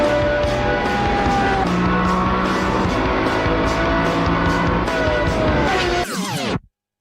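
Loud car engine of the R revving hard and sustained, a dense roaring drone with shifting pitch that climbs and then cuts off abruptly near the end, with no talking.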